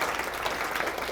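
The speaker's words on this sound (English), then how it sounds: "I think that we owe Kathy a big applause for everything she's done to lead this program" An audience at an academic lecture applauds a program leader, a brief burst of dense, even clapping from many hands in a hall.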